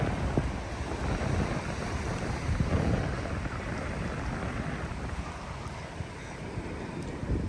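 Surf at Weligama beach rolls in as a continuous wash of breaking waves, with wind noise buffeting the microphone throughout and no voices.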